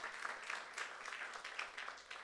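A youth worship congregation at a church service breaks into quiet clapping, soft rhythmic pulses of applause heard faintly and alone for a couple of seconds.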